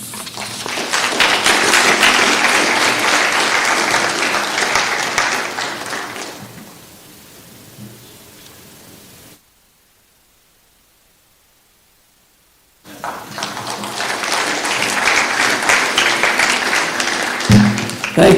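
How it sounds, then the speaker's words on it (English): Loud, sustained audience applause fills a high school scholarship awards ceremony, dense and continuous before dropping off to near silence, then a second strong burst of clapping returns at full volume. "Thank you very much for your applause"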